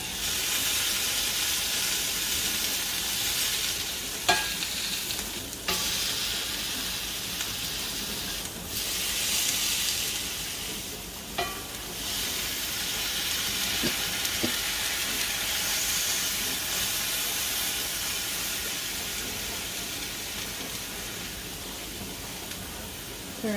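Oyster mushroom steaks sizzle in a hot pan while being pressed with a spatula, releasing a steady hiss of steam and moisture with occasional clicks and scrapes of the utensil.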